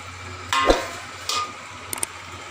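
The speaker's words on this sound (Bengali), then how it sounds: "দিয়ে আমি এটাকে ভালো করে এইভাবে নাড়ব" Prawn malai curry stirred in a pan, a few brief scraping and clinking strokes at close range over a faint, steady sizzle, with no talking.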